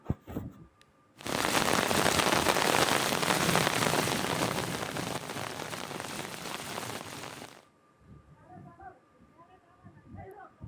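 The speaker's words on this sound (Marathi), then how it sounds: "बागलाणमध्ये किती जोरदार पाऊस सुरू होता याची भीषणता दाखवणारं एक दृश्य आहे" A loud, dense roar of heavy rain pounds down in Baglan for about six seconds and then cuts off abruptly, with brief quieter sounds before it and a talking voice afterward.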